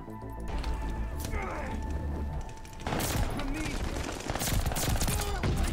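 Call of Duty Vanguard match with Armaguerra 43 fire, rapid automatic gunshot bursts that grow denser partway through, mixed with game effects and ambience and loud in the foreground.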